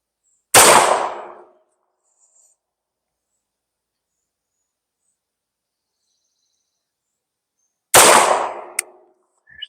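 Two sharp, loud 9mm gunshots from an Arex Zero 2 handgun fired single action, each a close crack with a short decaying tail, spaced about seven seconds apart with silence between.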